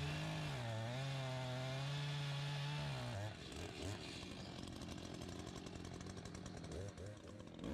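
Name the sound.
Echo CS-590 Timberwolf and CS-620-PW chainsaws running side by side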